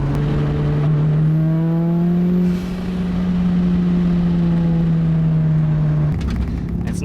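A turbocharged Mazda Miata pulls hard at high RPM, its engine note climbing in a loud, sustained drone heard from inside the car, then dropping abruptly near the end as the throttle lifts.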